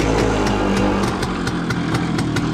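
An old WSK motorcycle engine runs close and loud, thrumming at a steady, even idle with a regular pulsing rhythm throughout.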